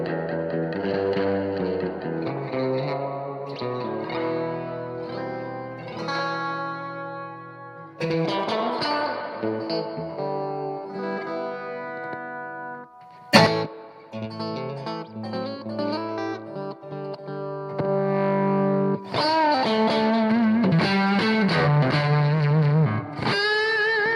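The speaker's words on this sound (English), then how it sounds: "It's a lot of gain for a super reverb." An electric guitar plays through a vintage Fender Super Reverb amp with high gain and reverb, giving distorted sustained chords and notes in several phrases with short gaps, reverberant tails and one sharp thump.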